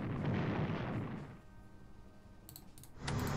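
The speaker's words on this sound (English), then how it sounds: "you could try to shell their positions" Artillery shelling enemy positions in the WWII strategy game Strategic Command: a heavy, rumbling explosive blast fades over about a second, followed by a quiet lull and a few faint clicks, then another deep boom starts.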